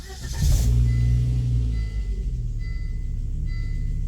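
A car engine, just back from an ABS controller repair, starts and rumbles loudly up close, then settles into a steady, lower idle-like drone with faint intermittent whines.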